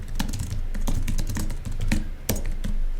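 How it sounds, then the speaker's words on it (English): Rapid clattering keystrokes on a computer keyboard, close and fairly loud, in uneven bursts with brief pauses between words, no voices. "So we're going to type in New Launch Update."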